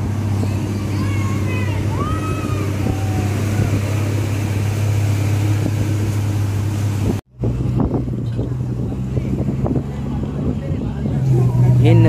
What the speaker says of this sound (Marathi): फायनली स्टार्ट झालेली आहे गाडी